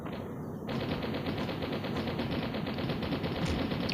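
Rapid automatic gunfire from the Mini Militia video game, a dense, continuous rattling burst that starts after a short quieter lead-in and stays loud and steady with no talking.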